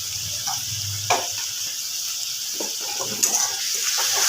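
Masala for prawn malaikari sautéing in a pan, a close, moderately loud sizzling hiss with occasional scrapes and stirring taps, no speech.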